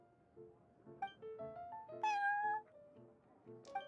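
A video game cat meows several times in quick succession at a cafe, short clear mews with one longer, rising cry in the middle, close and alone with no talking.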